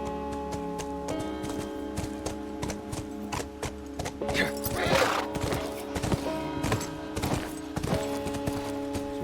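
Horse hooves clip-clop at a steady walking rhythm in the video game The Last of Us Remastered, with a whinny, tonal music and game ambience layered around them and a person talking over it.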